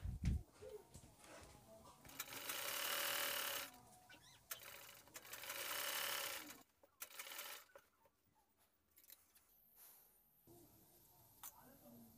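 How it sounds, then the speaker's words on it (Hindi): A sewing machine stitches the waistband of a pair of trousers in two short, quiet runs separated by pauses. Fainter mechanical clicks and handling noises fill the gaps. "पहले बेल्ट को और यहाँ पर सिलाई लगा लेंगे"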